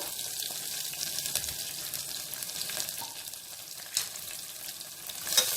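Thinly sliced long onion pieces and curry leaves frying in oil for a green chilli tomato dal, a steady broad sizzle with small pops and a brief clink near the end, no voices.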